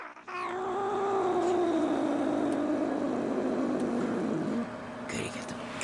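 A kitty cat gives a long, drawn-out yowling meow that bends downward in pitch, loud and close, ending with a short extra cry.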